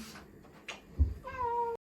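A black-and-white cat gives a single drawn-out meow near the end, close and clear, preceded by faint rustling and a soft thump in a quiet room.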